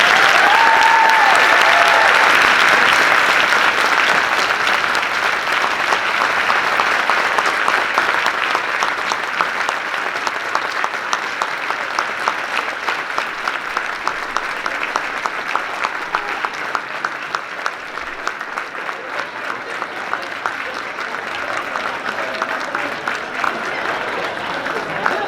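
Sustained audience applause for Hall of Famer Lisa Leslie, WNBA MVP and Olympic gold medalist, after a keynote speech: a dense, steady wash of many clapping hands that holds loud throughout and eases off slightly toward the end.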